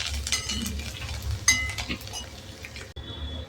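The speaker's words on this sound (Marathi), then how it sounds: "कोथिंबीर पण छान तळली जाते. छान आवाज येते. छान सगळे जिन्नस फ्राय होत आहे." Coriander and other ingredients for poha chivda fry in four to five spoonfuls of oil, a close, lively sizzle with stirring scrapes and a clink before it settles into a quieter hiss.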